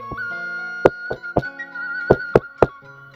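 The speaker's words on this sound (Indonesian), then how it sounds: "Suara ketukan terdengar di rumah Yono di malam hari" Knocks on a house door at night in a village, several sharp raps in two uneven clusters, close and clear, with a steady tonal hum sustained underneath.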